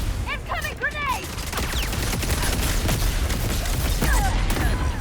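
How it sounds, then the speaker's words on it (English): Gunfire and a grenade explosion in the online shooter game Concord, a dense continuous roar of bursts and booms with scattered sharp chirping effects, loud throughout. "Incoming grenade!"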